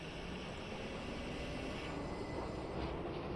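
A train rolls forward in a railway simulation game on the Falmouth Branch, heard as a steady, low rumble with a faint airy hiss. It holds at an even level throughout, with no voices.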